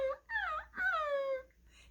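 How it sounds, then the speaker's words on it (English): A tiny Yorkshire Terrier whines softly in a few rising and falling whimpers, close by and alone, with a short pause between cries and a faint tail at the end. "Smooch, the tiny Yorkshire Terrier, crouched there, whining softly."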